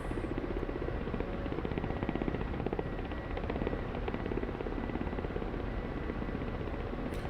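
Attack helicopter in DCS World flying steadily, its rotor producing a continuous rapid chopping thump over a broad engine roar, loud and unbroken with no voices.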